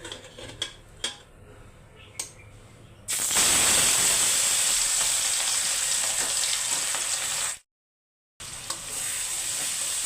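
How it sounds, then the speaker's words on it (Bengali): Curry spice paste sautéing in a home kitchen pan: a few soft clinks, then a sudden loud, steady sizzle that breaks off for a moment and resumes, close by with no talking. "তরকারিটা কষিয়ে নিচ্ছি মশলাটা"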